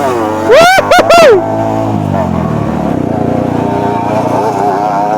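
A Honda CRF150L Rally trail motorcycle engine runs up close off-road in Karangasem, with a few sharp revs early on, then settles into a steady drone as the ride continues.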